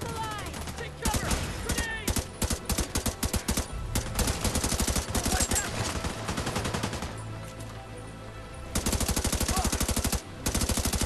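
Rapid bursts of automatic gunfire in the video game The Division 2, loud and close, with sustained rattling volleys separated by brief pauses.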